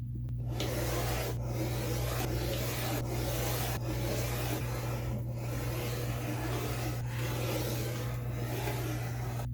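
Rotary cutter slicing fabric strips for a quilt, repeated firm cutting strokes at a steady pace over a constant low hum, close and clear with no talk.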